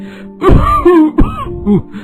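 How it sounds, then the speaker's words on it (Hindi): A few harsh, throaty coughs from a person suffering a lingering cough, in quick succession, close and fairly loud, with a strained, voiced quality. "कई दिनों से खांसी से परेशान हूँ"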